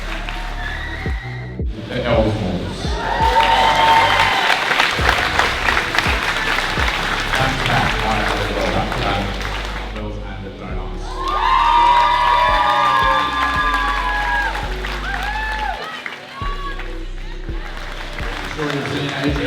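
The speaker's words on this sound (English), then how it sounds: "So a huge thank you and round of applause for all those people." A crowd at a games event applauds and cheers in two loud, sustained swells, with shouts and whoops mixed in and talk heard faintly under the noise.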